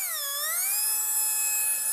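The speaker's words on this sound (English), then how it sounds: "if you ever have access to one of these tools and you're grinding out epoxy resin, be super careful" A high-speed rotary tool grinds epoxy resin out of a plastic front seat shroud on a Mercedes W163 ML Class. Its shrill, loud whine dips, then climbs and holds steady at a high pitch, with no voices.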